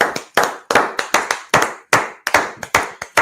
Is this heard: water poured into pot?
no